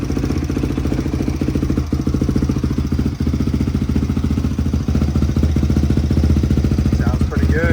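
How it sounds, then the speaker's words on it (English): A barn-find Honda CRF dirt bike runs steadily up close, its fast, even four-stroke chatter loud and constant throughout, with a brief blip near the end. "Bike sounds good. Sounds like a Honda."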